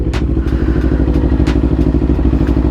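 A Yamaha MT-10 motorcycle engine idles while warming up, with a loud, close, steady rumbling pulse and a few sharp clicks and ticks throughout.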